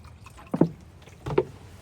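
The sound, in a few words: water being poured into a Jetboil pot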